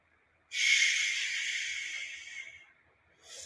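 A long, calming exhaled breath, a steady airy hiss pushed out through the mouth for about two seconds and tapering off, close and alone, followed by the start of another breath.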